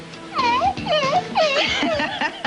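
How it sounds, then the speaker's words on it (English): A graveyard dog whine effect from a Disney digital animation control system plays as a close, loud series of about four rising and falling whimpering whines in quick succession. "So let's say I wanted to hear a graveyard dog whine."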